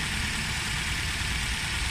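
A clean 4-cylinder car engine idles smoothly with the hood open, giving a steady, even low rumble with a broadband hiss, alone and unchanging throughout.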